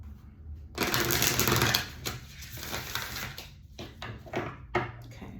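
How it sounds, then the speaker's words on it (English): A deck of tarot cards is shuffled up close, first as one long riffle burst and then as a run of shorter quiet riffles and taps. "I gotta shuffle cards."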